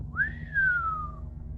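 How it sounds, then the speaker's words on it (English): Something whistles through the air in a tabletop fantasy game, a single clear rising then slowly falling tone lasting about a second over low background noise. "a whistle of something coming through the air"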